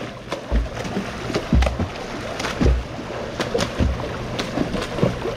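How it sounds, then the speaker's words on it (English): Waves in a wave pool slosh and splash in repeated surges roughly every second, loud and close. "As you can see, the waves are crazy."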